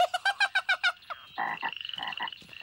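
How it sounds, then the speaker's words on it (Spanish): A cartoon frog croaks at a pond, first a quick rhythmic run of about eight bright chirping croaks, then a softer rattling, trilling croak sequence, clear and close with no talk. "Ese tiene que ser el papá rana."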